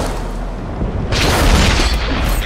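A shell striking a tank's turret in World of Tanks, heard as a sudden heavy boom that swells into a loud, rumbling blast and lingers to the end.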